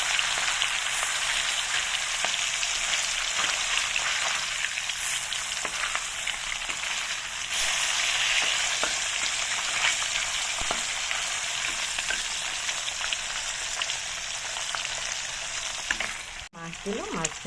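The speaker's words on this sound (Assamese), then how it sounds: "মই কেৰাহীত মাছ দিলোঁ, এতিয়া মাছখিনি ফ্ৰাই হৈ যাব।" Fish pieces fry in hot oil in a wok, a steady, dense sizzle holding close and loud throughout with faint stirring, briefly cut by a sharp clatter near the end.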